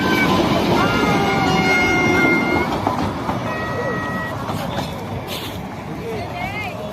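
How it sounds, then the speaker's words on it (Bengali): A train rumbles steadily past at Batasia Loop in Darjeeling with a few horn toots, while people talk nearby over the noise. "ট্রেন চলে গেল।"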